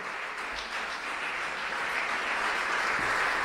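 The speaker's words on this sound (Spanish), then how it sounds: "Dale un aplauso a Él en esta tarde" A church congregation applauds during a Spanish-language service, a soft, even wash of clapping heard from a distance that swells slightly toward the end.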